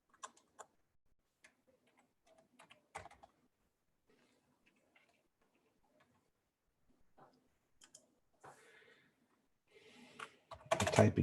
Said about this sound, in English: I'm typing it in here.